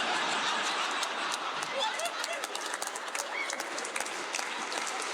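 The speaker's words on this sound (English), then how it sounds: "Actually, don't clap for that one" Dense audience applause fills a comedy special performance, steady and loud throughout, mixed with scattered laughter and chuckles in the crowd.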